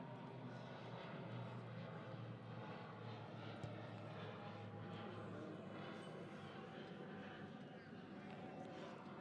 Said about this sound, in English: as the planes are flying over our heads